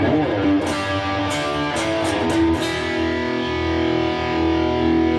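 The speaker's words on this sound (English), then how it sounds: "there's bit more compression, obviously a bit more distortion there" Heavily overdriven electric guitar through a Thorpy FX The Dane overdrive pedal at full drive, thick and saturated, chords ringing and sustaining with a compressed, fuzzy edge, played alone and fairly loud.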